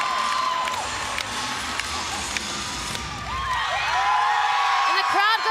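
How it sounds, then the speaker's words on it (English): A crowd at a women's gymnastics meet between Air Force and Clemson erupts in loud cheering, whoops and shouts after a floor routine, while a commentator talks over the noise. "And the crowd goes wild"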